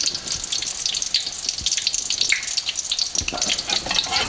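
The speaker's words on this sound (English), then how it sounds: "I'm going to drop this one in the oil that I've been heating up" Breaded chicken cordon bleu bubbling in hot oil in a wok, a loud, close, crackling frying sizzle with rapid popping bursts that continues without a break, with no speech.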